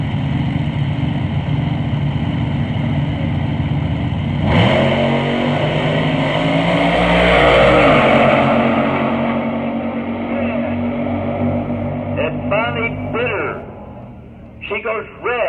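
Drag racing cars launching at Woodburn Dragstrip, loud sustained engine roar swelling as the cars accelerate away down the strip, then fading under an announcer's voice near the end.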